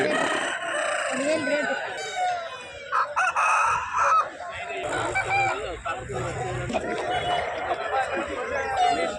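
A rooster and three hens at a Friday country chicken market in Nallapadu, with repeated clucking and crowing close by amid market chatter and people talking.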